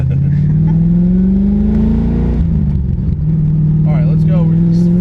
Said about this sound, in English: We're full throttle second gear.